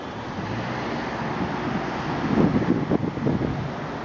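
Ocean waves wash onto the Irish coast at Timaleague, a steady windy roar with a swelling surge of surf midway, heard at moderate loudness without talking.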